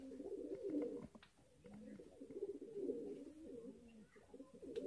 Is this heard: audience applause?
no